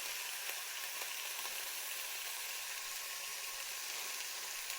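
Benton's country bacon frying in a pan, a steady dense crackle and hiss that carries on evenly throughout with no speech.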